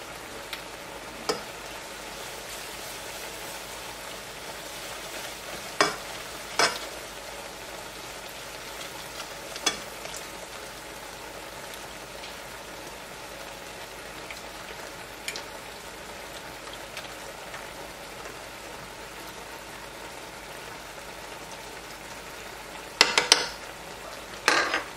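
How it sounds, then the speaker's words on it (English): Heavy cream being whisked into a cooking sauce in a pan, heard as a soft continuous sizzle and bubbling with scattered sharp clinks of the whisk against the pan and a cluster of quick taps near the end. "And to this we are going to whisk in 1 1/4 cups of heavy cream."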